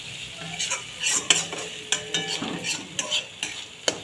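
Bhetki fish bones fry in a pan without water while a utensil stirs them, giving close scraping and clinking strokes in an uneven rhythm over a soft sizzle.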